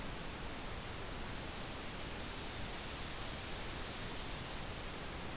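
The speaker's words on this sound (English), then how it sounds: "to close off on the high end here, we'll go up to about 7K and boost those frequencies so you can get a sense of what high frequencies sound like" Steady broadband noise run through a parametric EQ on a Behringer Wing mixer with the highs boosted around 7 kHz, giving a constant bright hiss with no breaks for the whole stretch.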